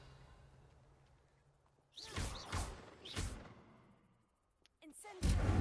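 A Revelio spell cast in the Hogwarts Legacy video game, heard as a pair of loud whooshing, thudding bursts, followed by a short lull and another heavy burst at the end.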